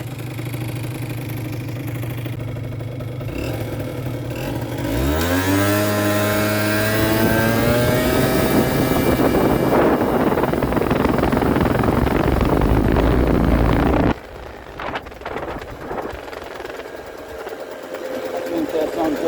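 A 50cc scooter engine running lean revs up from idle into a high, buzzing whine that holds steady, then drops sharply back toward idle near the end, loud and close.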